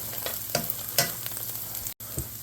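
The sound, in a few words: onions caramelizing and sizzling in a frying pan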